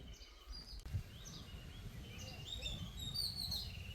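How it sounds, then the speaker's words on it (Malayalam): Birds call and chirp in the forest of Attappadi near hanging roots and a woodland stream, several thin, high twitters scattered over a soft steady background hush, faint and distant. "പക്ഷികളുടെയൊക്കെ സൗണ്ട് കേട്ടോ"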